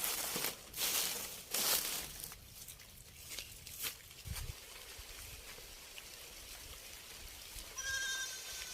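Several short goat bleats, mostly at the start, over a faint trickle of running water outdoors.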